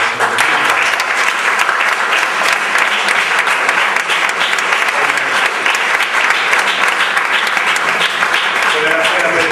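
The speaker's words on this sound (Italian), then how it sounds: "intanto ti prego di fare un applauso." An audience at a music-industry talk event in Bologna bursts into loud, sustained applause, dense clapping filling the hall evenly for nearly ten seconds.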